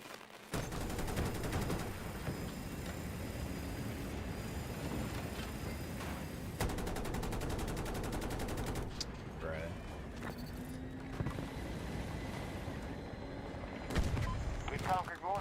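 Battlefield 2042 gunfire rattles in long, dense bursts of automatic fire, loud and close, with a few pauses and scattered single shots and explosions between volleys.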